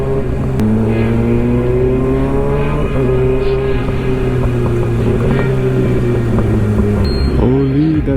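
Kawasaki ZX6R with an M4 GP19 exhaust revving loudly up close, a sustained high engine drone that holds steady for several seconds before a sharp throttle blip and drop near the end.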